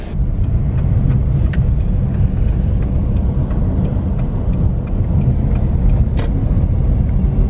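A car moves through congested Manila traffic toward Intramuros, its steady low engine rumble and road noise filling the space loudly and continuously, with faint clicks and brief higher ticks now and then and no talking.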